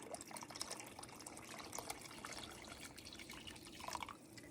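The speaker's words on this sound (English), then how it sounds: "I'm gonna put a little bit more water in here just to make sure that it is completely covering the jars." Water is poured into a canning pot of pepper jars being prepared for a water bath, a faint, steady trickle and splash with a few brighter drips, heard alone with no voices.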